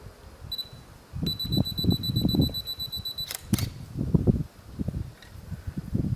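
A camera takes bracketed HDR exposures indoors, giving a few electronic beeps and then a crisp double shutter click, with a person speaking throughout.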